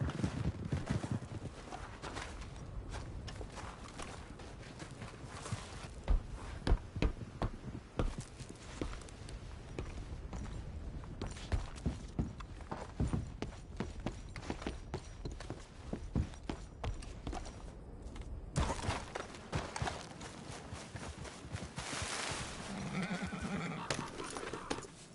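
Horse hooves clip-clopping along with repeated whinnies and neighs from a mount in Red Dead Redemption 2, steady uneven hoofbeats running throughout at moderate volume with occasional louder snorts and calls.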